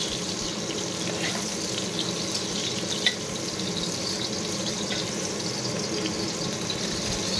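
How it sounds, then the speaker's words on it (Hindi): Steady crackling sizzle of prawns frying on high flame in hot oil, a continuous hiss close by with no pauses. "जह्नी को टिके गोल्डन ब्राउन कलर करके भाजी नबा।"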